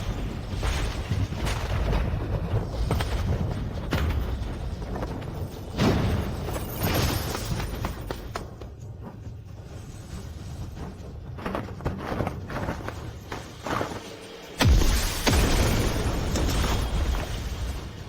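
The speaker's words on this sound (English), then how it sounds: "Such a massive energy explosion." A massive energy explosion in an animated martial arts battle, heavy booming blasts and rumbling impacts rising and falling, with a sharp, loud surge near the end.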